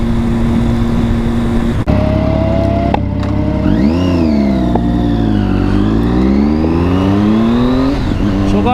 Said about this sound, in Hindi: This is a sports bike और ये कहती है कि जी मुझे भगाओ, हल्का नहीं चलाओ।